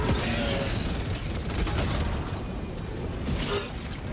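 Incendiary explosive burning enemies in the Helldivers 2 video game, a dense, loud crackling roar with rattling bursts and fizzing, continuous and close for several seconds.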